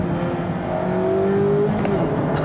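A Mazda MX-5 Miata engine, a 2018 Club car, revs steadily with a rising engine note, loud and close from inside the car, with no talking.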